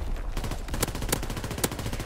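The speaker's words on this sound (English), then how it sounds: "Firing primary battery." A ship's primary battery firing in Call of Duty WW2, a quick run of sharp repeated blasts over about two seconds, close and fairly loud, with no talking.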